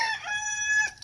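In a backyard flock of hens and a rooster, a rooster's crow rings out clear and fairly close, a single stretched call lasting about a second.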